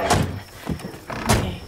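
Car doors shut with heavy thunks, one early and another late, then a faint lock click in a video game, The Quarry. The sounds are close and loud with no talk.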